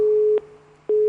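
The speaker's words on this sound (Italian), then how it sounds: "No, è caduto la comunicazione," Telephone busy tone after a dropped radio call: a loud, steady single-pitch beep, a half-second gap, then the tone resumes, heard alone.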